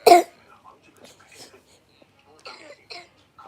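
A person gives a single sharp cough at the start, followed by soft, scattered vocal sounds and breaths in a quiet room.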